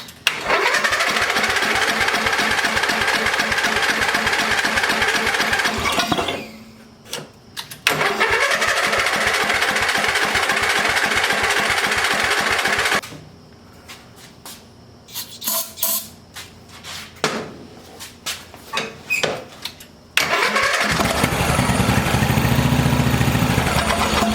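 Riding mower engine with a freed-up locked motor and Seafoam in it, cranking and firing with clutch down and a bit of throttle, roaring loudly, dropping out, sputtering in uneven bursts, then catching and running again.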